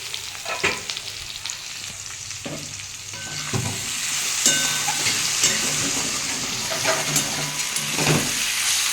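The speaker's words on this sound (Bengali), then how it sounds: "নাড়ুটা অনেকটাই ভাজা হয়ে গেছে" Malabar spinach fruit fries in a pan and gets stirred, giving a steady sizzle. Scraping strokes of the spatula come at irregular intervals, close and moderately loud, with no voices.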